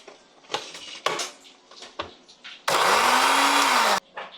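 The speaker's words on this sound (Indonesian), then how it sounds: "Cuminya di blender. Cuminya, cabenya." A kitchen blender runs steadily for about a second and a half, grinding squid with chili, cumin, salt, seasoning and a little oil, loud and close, with a rising whine, preceded by scattered clatter and knocks.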